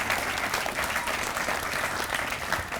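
An audience claps and cheers for a college cheer squad at the opening ceremony of a new culinary arts and math building, with steady, dense applause from a crowd close by throughout.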